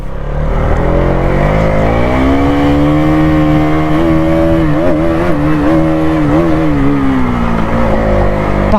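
A motorcycle engine runs loud and close, a steady throbbing drone whose pitch rises and dips slightly as it idles and revs, heard alone without talk.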